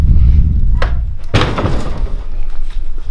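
Rear door of an 8.5-foot-wide, 20-foot-long cargo trailer opening, with a couple of sharp metallic clunks and a heavy thunk over low rumbling background noise, close and loud.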